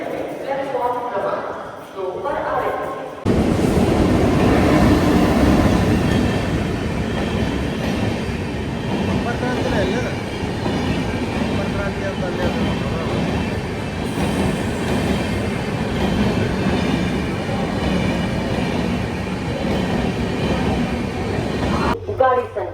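Yesvantpur–Vasco da Gama Express train at Hubli station, a loud, sustained rumble of rolling carriages with rhythmic wheel clatter and occasional squeal, starting abruptly after a brief quiet moment and running nearly the whole length; indistinct voices sit underneath.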